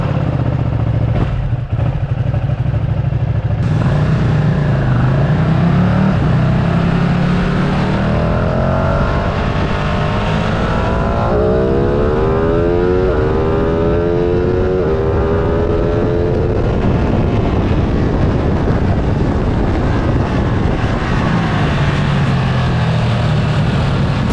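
A Ducati Streetfighter V2 motorcycle being ridden, its engine loud and sustained throughout, with revs rising and falling through gear changes and wind rush over the engine note, with no talk.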